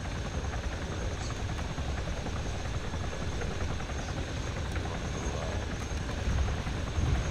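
A transport helicopter in the Arma 3 military game sets down at base, its rotor and engine a steady, dense roar that fills the whole stretch without a break and swells slightly near the end.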